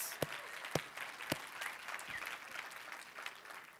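A church congregation breaks into applause, opening with a few sharp, loud claps near the front before settling into a lighter, scattered patter that carries on for several seconds.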